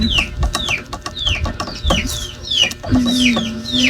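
Fighting chickens cluck close by in quick, repeated bursts, with a rooster-like call and some scattered bumps mixed in.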